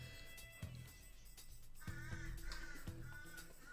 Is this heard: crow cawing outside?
yes